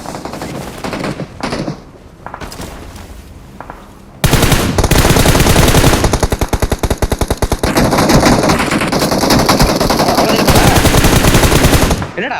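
Automatic gunfire in a video game, first in short broken bursts, then a loud sustained spray of rapid shots lasting several seconds before cutting off.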